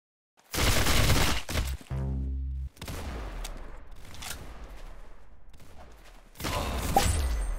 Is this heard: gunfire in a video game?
yes